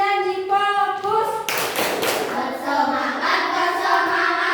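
A classroom of students performs a rhythmic clapping chant, with hand claps in time and children's voices chanting together, close and lively throughout.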